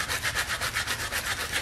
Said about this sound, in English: So go ahead and try to start sanding this stuff off.